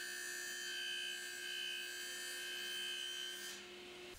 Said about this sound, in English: I can get the blade tilted over to 45 degrees, and this is so I can cut a little chamfer on the bottom of the fence